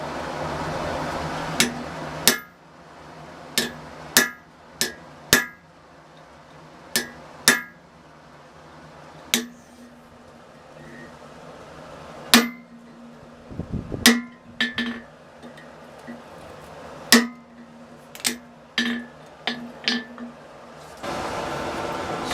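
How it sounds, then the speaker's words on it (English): Sharp metallic hammer blows strike a punch to drive a hole through a steel flintlock frizzen, about fifteen irregularly spaced ringing impacts, some single and some in quick clusters, close over a faint background hum. "So we're going to punch us a hole in this right here."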